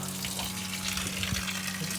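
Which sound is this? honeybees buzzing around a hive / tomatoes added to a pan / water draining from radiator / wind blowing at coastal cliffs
water draining from radiator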